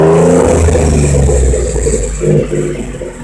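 A 2014 Ford F-150 Tremor pickup with an upgraded exhaust idles with a deep, rumbling exhaust note that swells briefly, steady and close, with no talking.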